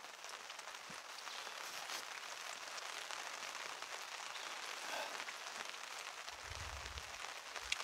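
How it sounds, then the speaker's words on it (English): Steady rain pattering on a tarp shelter at a camp, a dense, even drumming that continues throughout with no talking. "hide out from the rain"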